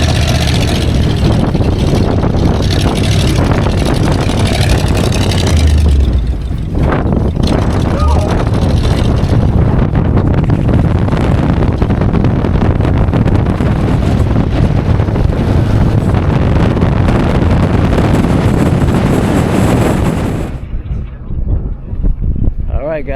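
An open-air dune buggy drives over the sand dunes near Huacachina, Peru, with loud, constant wind buffeting the microphone over the engine roar almost throughout, then dropping off near the end, with voices faintly under it.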